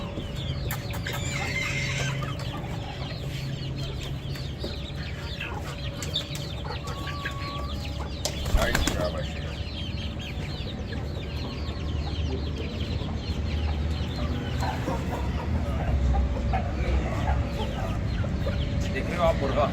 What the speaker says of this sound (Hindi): देख रहे हो आप मुर्गा,